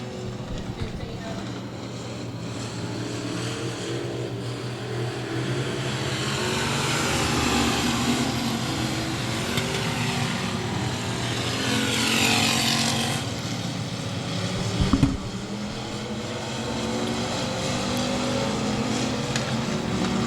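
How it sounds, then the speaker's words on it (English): Race cars circle the track at Boothill Speedway, their engine roar swelling and fading as they pass at a distance, with a loud burst near the end, under a commentator's ongoing talk. "So the 3 cars break away right now."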